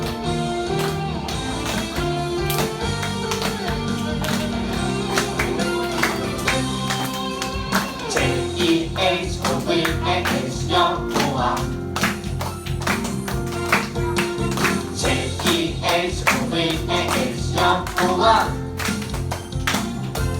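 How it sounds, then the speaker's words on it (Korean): Children at a Sunday school worship service clap along to a worship song, sharp rhythmic claps falling on the beat over loud music with singing voices, continuing steadily throughout. "다시 두 번째 박자에 박수."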